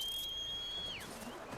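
A single steady high whistle calling a mount in the video game Horizon Forbidden West, held for about a second, then bending downward and fading, fairly quiet and alone.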